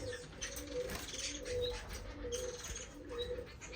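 Several finches, including rosy and scarlet-chested birds, chatter and call in an indoor bird room, with busy overlapping chirps and soft cooing-like notes over a steady mechanical background hum.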